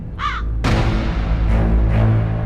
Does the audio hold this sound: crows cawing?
yes